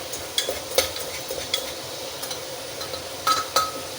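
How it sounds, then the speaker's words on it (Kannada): Oil frying in a pot while chicken biryani is cooked, a soft steady sizzle under sharp clinks and scrapes of a metal spoon stirring, several distinct taps spaced irregularly, close and with no voices. "ಅಂದರೆ ಎಣ್ಣೆಯಲ್ಲಿ ಹುರ್ಕೊಬೇಕು"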